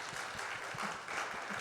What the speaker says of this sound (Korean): 우리 또 힘내서 또 살아가시도록 우리 박수하겠습니다.